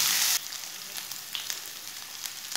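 Ginger paste frying in a pan with browned onion for a beef kofta curry, giving a close, steady sizzle with a brief louder burst at the start and small crackles through it.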